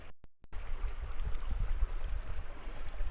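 Water rushes fast along a freshly cleaned bisse irrigation channel in a forest, a steady close gurgling flow that starts right after a brief silent gap.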